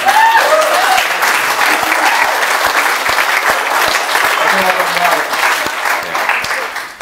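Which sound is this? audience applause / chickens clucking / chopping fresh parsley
audience applause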